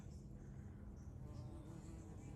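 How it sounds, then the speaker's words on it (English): Soft, steady insect buzzing of bumblebees hovering nearby, continuous and quiet with faint outdoor ambience. "Bees everywhere, big bumblebees."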